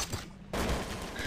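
A short, loud burst of Garry's Mod gunfire that cuts in abruptly after a quieter moment and rattles on as rapid, dense shots.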